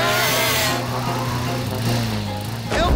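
A lawn mower engine drones steadily at close range in a garden mowing scene. The hum holds constant, then cuts off abruptly near the end.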